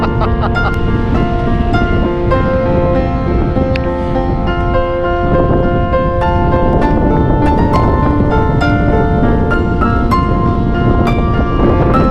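Strong wind roars steadily, buffeting the microphone loudly throughout, with a constant rumbling wash that may include surf or water nearby.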